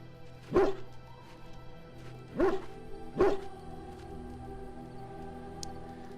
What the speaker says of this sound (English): isn't he a cute, bloodthirsty war dog?